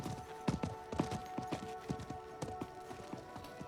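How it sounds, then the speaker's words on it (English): Hooves of a merchant's horse in Diablo 4 clip-clop in a fast, steady galloping rhythm, close and clear over a faint game ambience. "I think that was the merchant's horse."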